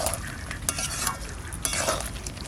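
Duck curry with new potatoes stirred and sautéed in a pan, village style; a steady close sizzle runs throughout, broken by repeated scraping strokes of a spoon through the thick mixture.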